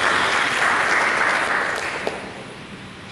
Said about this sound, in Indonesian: Mari kita tepuk tangan bagi Yesus.